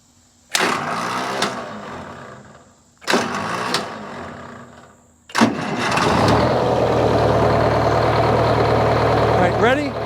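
A Detroit Diesel engine powering a Frick sawmill at the 2023 Anne Arundel County Fair cranks in two short bursts, then catches on the third try and settles into a loud, steady diesel rumble.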